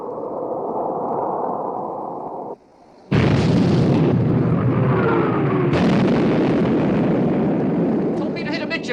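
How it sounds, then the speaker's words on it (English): A torpedo strikes a battleship amidships in a 1960 naval war film, the blast erupting loud and close after a brief hush, followed by a long roaring rumble and a second booming burst. "Torpedo hit amidship, sir."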